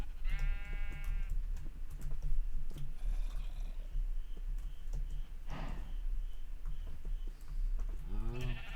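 Sheep bleating in a blocky survival video game: one wavering bleat at the start and another near the end, heard over a steady background hum and scattered game sounds.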